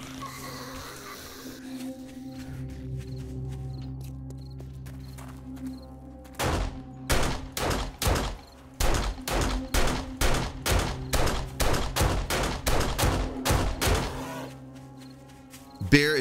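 Rapid gunfire blasts at a bear in the zombie survival game 7 Days to Die, a quick string of loud, closely spaced shots after a quieter reload stretch, with a voice talking around them.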